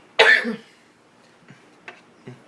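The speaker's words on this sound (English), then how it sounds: "Like, you got a little bit of a cold there. Don't cough out a lung on me." One loud, harsh cough up close from a person with a cold, followed by a few faint small clicks or shuffles in otherwise quiet surroundings.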